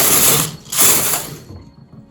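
A knitting machine carriage is pushed across the needle bed for two rows of a cable pattern: two rattling, clicking mechanical sweeps, close and fairly loud, with a short gap between them and a quiet tail.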